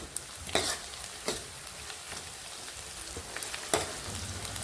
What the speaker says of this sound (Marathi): आलं, लसूण, कोथिंबीर पेस्ट टाकूया। 1-2 मिनिटं ते परतून घेऊ।